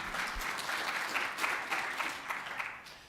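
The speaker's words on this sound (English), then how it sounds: "I want you to give the state of Minnesota a round of applause." An audience at a justice-themed talk applauds Minnesota, steady clapping filling the room from nearby for a few seconds, moderately loud with slight swells and no voices over it.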